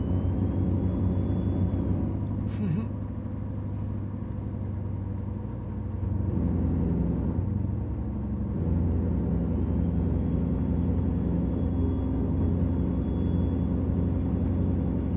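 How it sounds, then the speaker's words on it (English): Heavy truck hauling a mulcher in American Truck Simulator, a deep steady engine rumble and drone that shifts in pitch partway through, with a brief hiss that may be air brakes; no talking. "Hopefully the sound's better today for the truck sounds"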